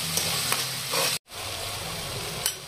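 Green chillies and chopped garlic sizzle and fry steadily in a pan while a utensil stirs and scrapes through them, with a brief break in the middle; no talking.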